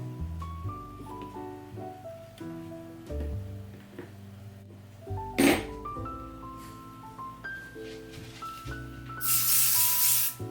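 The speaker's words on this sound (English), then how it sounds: "More spray adhesive" Spray adhesive is sprayed onto fabric for a handmade Santa plush: two short hissing bursts, the second longer, heard close over steady background music.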